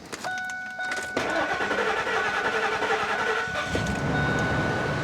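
A 2001 Ford F-series pickup engine cranks for about a second, catches and fires, then settles into a steady, loud idle close by.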